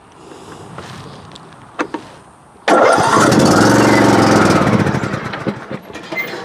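A small engine in need of carburetor cleaning is pulled over with a couple of faint tugs, then bursts into a loud, steady running roar. It sputters and surges unevenly near the end.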